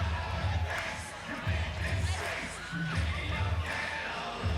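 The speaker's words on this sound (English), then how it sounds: "There's always that one that's clapping out of time." Rodeo crowd at a PBR Australia touring pro bull riding event in Bloomsbury clapping along in a steady rhythm, the beats coming in repeated bursts over a broad arena din of voices.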